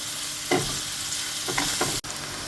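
Onion frying in a pan with a constant close sizzle, broken by a few louder bursts of stirring and a brief sudden dropout near the end, and no talking.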